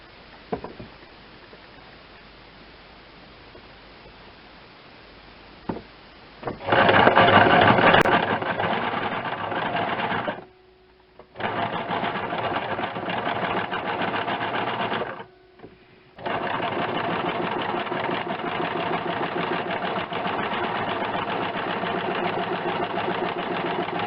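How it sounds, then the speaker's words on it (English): A standard domestic sewing machine freehand-stitches a bird design, starting after a quiet lead-in and running in three long, steady bursts separated by two brief pauses. "I'm ready to sew. You can go fast or slow."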